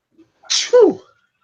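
A single sneeze bursts out in a quiet classroom during a statistics lesson, a sharp hissing intake followed by a loud voiced release, lasting about half a second, with no talk around it.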